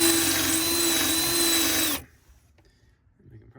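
A power drill whines loudly and steadily for about two seconds while drilling out screws, then cuts off abruptly, leaving near silence with faint rustling.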